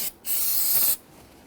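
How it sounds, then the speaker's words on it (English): A close aerosol burst of regular solvent sprayed onto the brake master cylinder cover of a 2008-2013 Infiniti G37, a short hiss followed by one steady, loud spray lasting under a second before it cuts off. "you want to go ahead and spray and clean up the cover itself"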